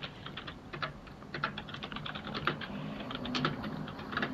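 Typing on a computer keyboard during War Thunder play, a fast, irregular patter of soft key clicks that continues steadily at close range, fairly quiet, with no talking.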